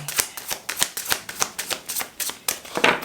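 Rapid riffle-shuffling of tarot cards: a steady run of crisp, papery bursts about every quarter second, close up and alone.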